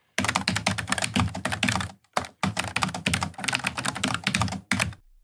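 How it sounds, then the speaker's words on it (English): Logitech MX Mechanical keyboard typed on close up, a steady run of clicky keystrokes in quick bursts with two short pauses, fairly quiet and alone. "But here, I'm just going to do a little typing."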